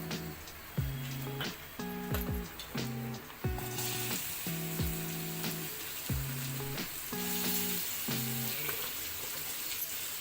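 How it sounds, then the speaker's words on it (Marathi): Onion sizzles and fries in hot oil for a rustic village-style chicken curry, with a steady crackling hiss and repeated stirring scrapes and clinks throughout. "आता हे कांदा आपल्याला भाजायचा आहे। याच्यासाठी तेल टाकूया।"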